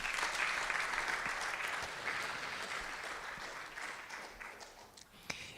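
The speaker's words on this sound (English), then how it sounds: "I think he deserves another round of applause" An audience applauds at a national ICT week training session, steady, fairly faint clapping from a crowd that slowly tapers off.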